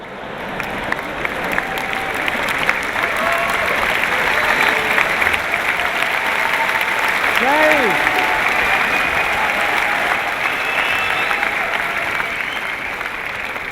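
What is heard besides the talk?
audience applause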